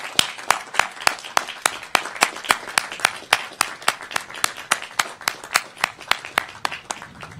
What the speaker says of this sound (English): let's give them and those who are watching online a round of applause